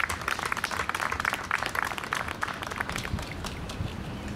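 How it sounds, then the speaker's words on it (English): An outdoor Memorial Day ceremony crowd in Plainfield claps for an honored veteran, a moderate, somewhat sparse patter of many hands with distinct individual claps, steady at first and easing slightly toward the end. "let's give him a round of applause"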